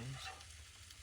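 Onions frying on a camping griddle outdoors, a steady close sizzle with faint stirring scrapes that settles into an even low hiss.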